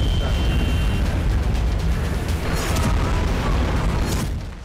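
Bombardment in the Israel-Palestine war, with dense, heavy blasts and rumbling booms merging into a continuous loud roar that fades toward the end.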